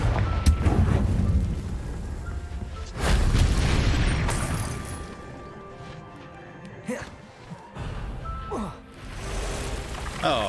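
Explosions from the Confringo fire spell in the game Hogwarts Legacy: two loud, deep booms in quick succession, each with a rumbling tail, followed by quieter mechanical clatter and faint game effects.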